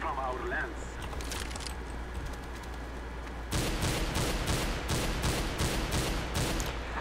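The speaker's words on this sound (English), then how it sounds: "let's go ahead and mess with the auto sniper now" Auto sniper rifle in a CS:GO match firing a rapid string of loud, evenly spaced shots after a stretch of quieter game ambience.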